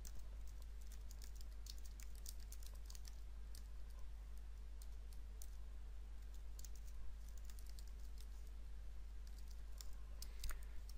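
Typing on a computer keyboard to enter settings, rapid irregular key clicks in short bursts, close and fairly quiet over a constant low hum.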